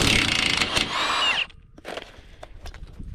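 An impact wrench buzzes loudly up close for about a second and a half on a trailer coupler's lock nuts, then cuts off, followed by fainter metallic clicks and handling noises.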